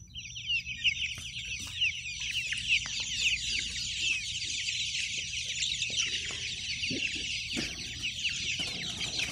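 Young chickens moved from a brooder into a big coop with tall grass, chirping and clucking in a busy, overlapping chorus of high peeps close by, with a few sharper calls and soft thumps scattered beneath.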